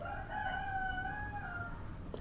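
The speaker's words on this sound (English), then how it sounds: "Can you hear that? My rooster is crowing." A rooster crows once, a single drawn-out cock-a-doodle-doo heard faintly from some distance against a quiet background.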